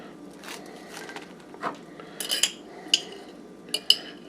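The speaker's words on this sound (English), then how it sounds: "I like to put just a spoonful on the bottom." A spoon scrapes and clinks as grape jelly is spread on the bottom half of an English muffin, giving soft smearing sounds broken by several sharp little metallic taps near the end.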